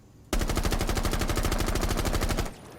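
Sustained automatic rifle fire in Rainbow Six Siege, a loud, rapid, evenly paced burst of gunshots lasting over two seconds, then it cuts off to quiet room tone.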